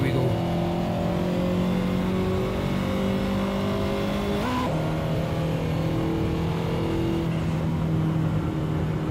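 A Ferrari engine in the Assetto Corsa racing game revs hard and steady, its harmonic whine climbing, dropping sharply at a gear change midway, then holding a strong, close, continuous drone.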